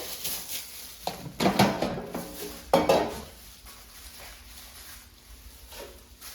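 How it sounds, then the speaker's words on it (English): Longanisa sausages are set into a metal air fryer basket in a single layer, with a few close rustling clatters and knocks followed by quieter handling. "I will put it in the air fryer in a single layer"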